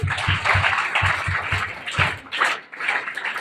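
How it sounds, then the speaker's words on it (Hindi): An audience breaks into applause for a participant at a quiz gathering: dense, sustained clapping at moderate loudness with a rhythmic low thumping underneath, thinning briefly near the end before swelling again. "तालियां हो जाए इनके लिए।"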